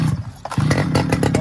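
A pull-started Arctic Cat Jag 3000 snowmobile engine, a barn find, sputters into life with choppy, uneven firing bursts and a brief dip before catching again, loud and close.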